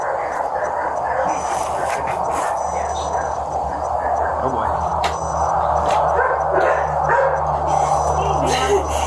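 Poodles at a breeder's home bark and yip on and off in the background, partly masked by people talking close by indoors.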